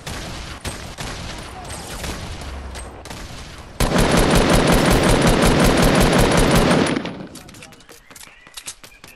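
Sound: minigun gunfire in a video game

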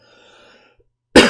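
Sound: cough

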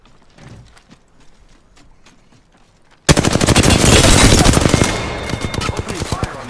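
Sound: gunfire in the video game Apex Legends

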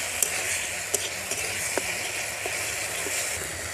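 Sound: spice paste frying in pan for parshe fish mustard curry

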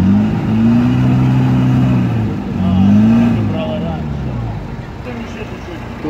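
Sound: off-road vehicle engine revving while stuck

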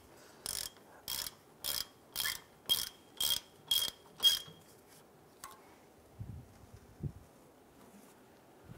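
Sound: ratchet snugging down bolts on a Toyota Camry

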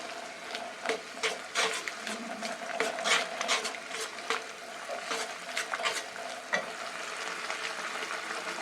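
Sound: stirring yogurt into spinach curry in a pan

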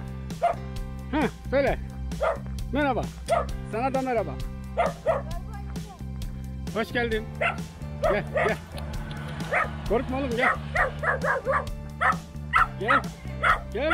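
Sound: dog barking and whimpering

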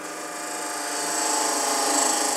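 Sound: woodturning holly with a beading and parting tool

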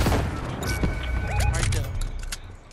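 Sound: gunfire in video game Fortnite

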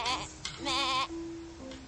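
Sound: goat bleating in Amanda The Adventurer video game

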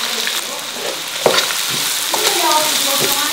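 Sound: stir-frying scallion, ginger and garlic in a pan

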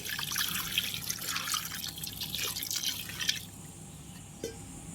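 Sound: water poured into pressure cooker

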